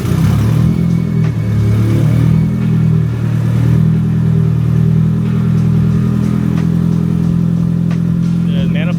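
A Nissan SR20 drift car engine runs loud and close at a steady, rumbling idle with a rough, slightly uneven throb, and faint clatter appears near the end.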